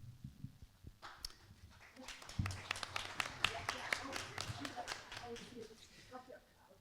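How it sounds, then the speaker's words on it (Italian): Applause in a lecture hall at the Ateneo Veneto in Venice: scattered claps from an audience start after a couple of seconds, build into steady clapping and then thin out toward the end. "intanto io li prendo gli applausi"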